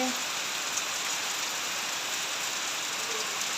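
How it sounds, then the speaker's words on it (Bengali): Heavy monsoon downpour pouring steadily onto surfaces, a dense, unbroken roar of rain that stays loud and even throughout with no voices. "দেখো কি মুসলধারে বৃষ্টি হচ্ছে"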